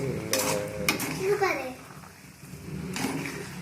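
Semiya vermicelli being stirred in a pan at breakfast time, soft scraping strokes over a light frying sizzle, with a voice and other talking mixed in.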